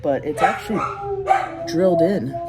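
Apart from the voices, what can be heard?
dogs barking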